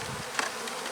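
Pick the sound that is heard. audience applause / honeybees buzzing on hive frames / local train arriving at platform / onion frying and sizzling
honeybees buzzing on hive frames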